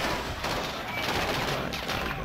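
Gunfire in a Modern Warfare campaign, a dense, quiet stream of rapid shots and automatic bursts rattling continuously in the background, with no single loud report standing out.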